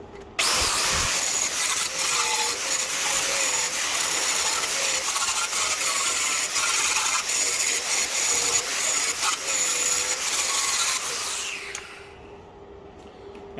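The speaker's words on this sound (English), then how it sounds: "So I'm just going to run the grinder past that now and just get rid of some of the high points" Angle grinder smoothing down the high points of welds on the body of an Alfa Romeo Brera 3.2 Q4 under repair in a workshop: a loud, steady, abrasive whine running continuously, then dropping off as the disc spins down at the end.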